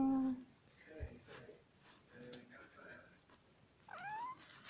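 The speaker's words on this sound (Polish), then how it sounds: "Miau." A cat meows a few times, soft and close, with short rising cries between quiet pauses, and a person speaks briefly at the start.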